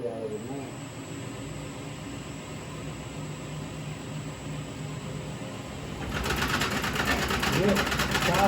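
A wood lathe spins a sycamore salad bowl blank, a steady mechanical whir and hum that grows louder and rougher as the speed climbs near the end, with faint voices in the background.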